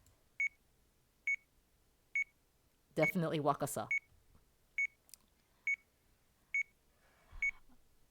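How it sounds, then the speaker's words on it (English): Steady electronic alarm beeps from a video game, evenly spaced short tones repeating roughly every second, clear and close, with a brief stretch of speech interrupting the pattern partway through. "Unsurprisingly, his alarm began to sound."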